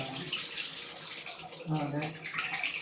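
Water runs steadily from a pipe on a combi boiler indoors, a continuous broadband rush with a brief dip and surge midway, fairly close.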